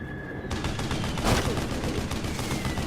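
Rapid gunfire from a gun in Assassin's Creed Syndicate, in a World War I setting, rattles on steadily at moderate volume, swelling briefly in the middle.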